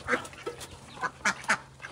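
Several short quacks from farm ducks just fed wheat bran and rice bran, in quick succession, fairly close, with a few brief pauses between bursts and no talking.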